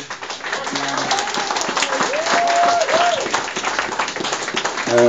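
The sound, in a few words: audience applause for artists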